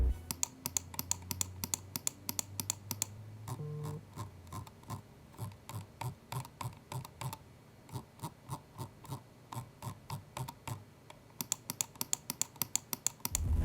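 Rapid, crisp plastic clicking from an Endgame Gear XM2we wireless mouse scroll wheel, close up, in quick bursts and steady ticking runs with brief pauses between.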